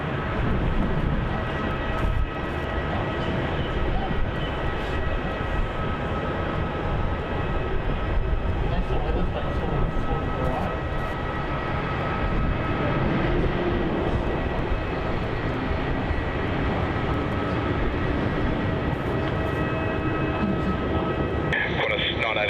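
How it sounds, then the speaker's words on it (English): A Qantas Boeing 737 comes in to land at Melbourne Airport with a loud, sustained jet rumble and a whine lasting the whole stretch, and faint voices run underneath. "Alright, here's that Qantas 737."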